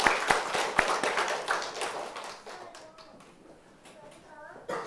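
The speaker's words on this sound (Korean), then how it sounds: "우리 큰 박수로 화답하겠습니다" A church congregation claps in a brief burst of applause that quickly thins out to scattered claps, with faint chatter and a few soft sounds lingering near the end.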